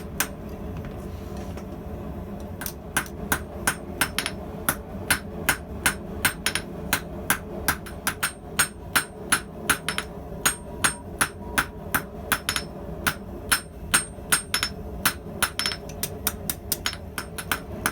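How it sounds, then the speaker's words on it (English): Steady, ringing hammer blows forge bearing steel into a pair of scissors, drawing out stock for the finger rings. The strikes fall close and loud in an even, repeating rhythm, with faint workshop hum between them and no talking. "the majority of the forging is going to be drawing out for the finger rings"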